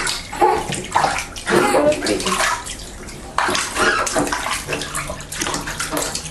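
A baby is bathed in a bathtub, water splashing and sloshing in repeated bursts close by while someone talks and coos softly throughout.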